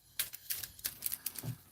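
Deck of Magic cards being shuffled by hand, a quiet run of soft riffling clicks and brisk flutters in short bursts, close by and fairly faint.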